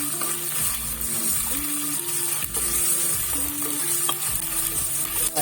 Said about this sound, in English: So I'm going to put all of this into it. This is a quick stir.